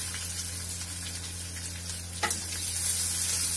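Onion sizzling in a hot pan, a steady close hiss of frying with a brief scrape or stir partway through, no voices.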